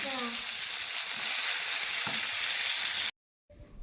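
Oysters (kalwa) frying in a pan, a loud, steady sizzle with faint stirring that runs for about three seconds before cutting off abruptly, followed by a quieter stretch.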